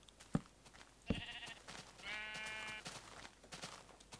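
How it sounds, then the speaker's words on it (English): Sheep in the Minecraft video game bleat twice in short, fairly loud calls, set among faint clicks and game sounds, with no one talking. "I swear these sheep are trying to escape."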